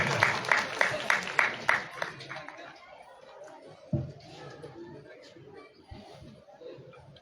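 A village gathering at the opening of a synthetic turf hockey field in Baijalpur, Haryana, breaks into a short round of clapping with a few distinct claps that soon fade into crowd murmur and shuffling.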